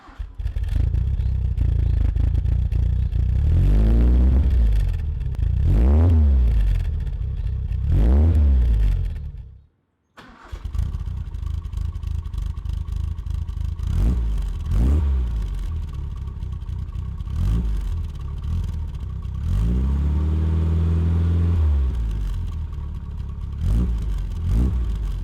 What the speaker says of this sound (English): compare the 2 exhaust notes between the Maniflow exhaust and the RC40, both of which were twin box exhaust systems